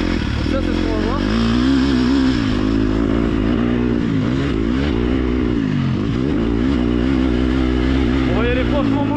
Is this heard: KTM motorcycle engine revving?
yes